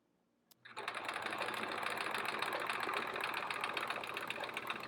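A sewing machine starts up after brief silence and runs at steady speed for free-motion quilting, a continuous close mechanical whirr with fine rapid stitching rhythm and no talk.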